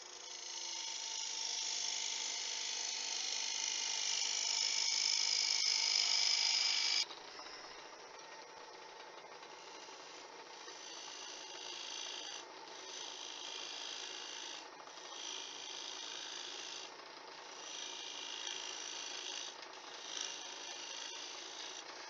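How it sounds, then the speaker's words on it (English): A parting tool cuts a tenon on a wooden Easter egg blank spinning on a woodturning lathe. It starts as a close, loud, steady rasping scrape, then drops to a quieter pulsing rub after about seven seconds. "So I'm going to use my parting tool and put a bit of a tenon."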